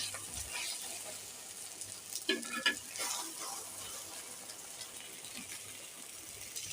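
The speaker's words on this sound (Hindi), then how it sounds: "अभी मैंने बना रही हूँ जी आमलेट। इसको अब दूसरी साइड से करते हैं।" An omelette fries in a pan, giving a steady low sizzle with a brief louder burst of spatter and scraping partway through, recorded close with no talking.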